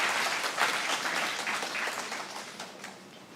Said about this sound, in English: Yeah, you can give yourselves a clap for that.